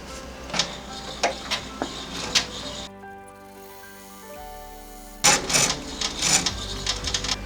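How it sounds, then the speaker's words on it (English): An embroidery machine runs a final tack-down stitch on a felt and ribbon in-the-hoop book buddy project, giving rapid close mechanical chattering bursts, with a quieter pause in the middle before the stitching resumes loudly. "we're going to put it back into the machine and run our final tack down stitch"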